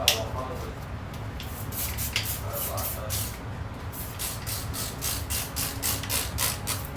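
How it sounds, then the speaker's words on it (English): Repeated short bursts of a spray bottle of disinfectant cleaner on a toilet, close and crisp, in a steady series with brief pauses between squirts. "I'm just going to spray the toilet from top to bottom and on both sides"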